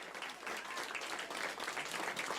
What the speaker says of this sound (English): In the room there at the Jet Propulsion Laboratory erupting in applause.